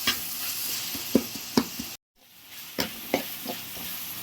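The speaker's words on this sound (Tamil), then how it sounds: "தக்காளி வதங்க கொஞ்சம் உப்பு போட்டுக்கலாம். இது நல்லா வதங்கட்டும்." Tomatoes with a little salt sautéing in a pan for sweet corn kurma, a soft steady sizzle broken by several sharp spoon knocks and scrapes against the pan, with a brief cut to silence partway through.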